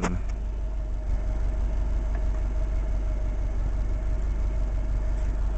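A car engine idles steadily and evenly at close range, a continuous low rumble with no fluttering or speed changes and no voices, from a car being checked for piston slap.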